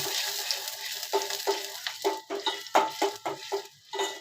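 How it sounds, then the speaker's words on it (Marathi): Onion frying in oil with turmeric, a steady close sizzle broken by repeated scraping stirs at a quick, uneven rhythm. "तर इथे कांदा आपला भाजतोय, तो पण थोडीशी याच्यात हळद घालून घेते."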